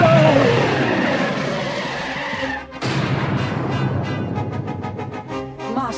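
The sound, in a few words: spaceship braking thrusters and crash landing, audio drama effect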